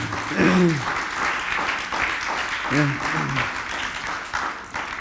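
A church congregation claps during a bilingual sermon on faith, sustained dense applause filling the room, with voices briefly calling out over it.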